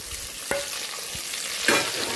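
Stuffed brinjal curry, Kathiyawadi-style with potatoes and masala, sizzles quietly in a pan while a spoon stirs it, giving soft scraping strokes over a steady low frying crackle.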